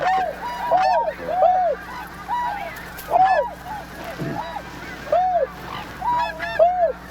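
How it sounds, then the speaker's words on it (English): Swans give repeated hoarse, honking calls in uneven bursts as they fly in, several birds overlapping, fairly close outdoors. "Are they snow geese? No, they're swans."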